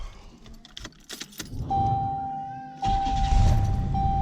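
A GM 3800 car engine cranks and catches after a mass air flow sensor replacement, preceded by key jingling and clicks, then settles into a steady close idle hum.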